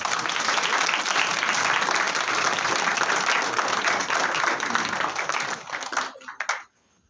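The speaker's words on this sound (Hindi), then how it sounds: "तालियों में थोड़ी कमी लग रही है।" Sustained audience applause at a ghazal performance with tabla and keyboard: dense, steady clapping from a crowd, loud and even for several seconds before tapering off and stopping near the end.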